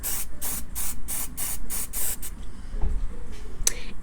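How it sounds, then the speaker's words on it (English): Apple Garde protector sprayed onto a Louis Vuitton bag from an aerosol can: about eight short, rhythmic hissing bursts in quick succession, close and crisp, followed by quiet handling and a faint click. "And we're gonna spray that, and then we'll let this dry and spray it again."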